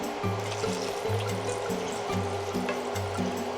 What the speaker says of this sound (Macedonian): И ќе ставиме сега вода. Ова сега околу 750 мл има тука.